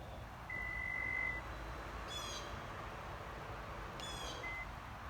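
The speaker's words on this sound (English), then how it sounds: "it's going to be beeping at you constantly to let you know that the trunk is open" A car's warning chime sounds because the trunk is left open, producing short, faint high beeps at intervals over a steady low background hum.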